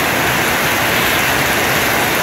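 Heavy rain beats on roofs in El Jabalí during a strong storm, a dense, unbroken loud hiss of water pouring and drumming with no voices.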